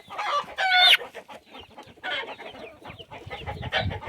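Hens of mixed breeds, including Cinnamon Queens, cluck and squawk close by in a backyard egg-hatching setup, with one loud shrill squawk early and softer scattered clucks after.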